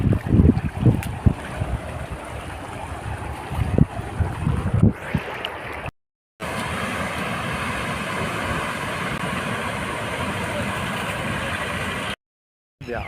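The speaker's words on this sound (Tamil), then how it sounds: "நாங்கள் பாருங்கள் இதெல்லாம் வேகத்துக்கு போகுது தண்ணி" Rushing floodwater in heavy rain, a steady, broad roar of fast-moving water close by, rougher and gustier at first, then an even wash broken by two brief cuts to silence.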